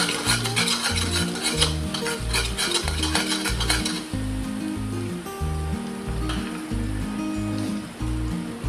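Onions and curry leaves fry in a pan for a Kathiyawadi guvar (cluster bean) curry, a steady close sizzle broken by repeated scraping strokes of a stirring spoon against the pan.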